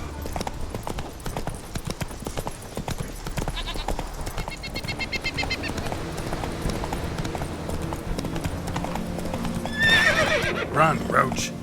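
Roach the horse in The Witcher 3 galloping, with rapid hoof clip-clops throughout and a loud neigh near the end, mixed with in-game voices and ambient sounds.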